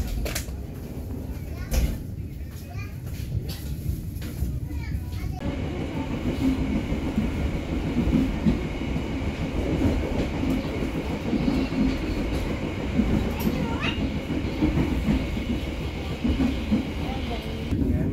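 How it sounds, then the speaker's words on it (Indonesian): The Serayu passenger train runs on the rails near Tasikmalaya station in Indonesia, a loud, steady rumble with clickety-clack of the cars that swells after a few seconds, with occasional faint voices. "Kereta api Serayu saat ini kembali diberangkatkan dari stasiun Tasikmalaya."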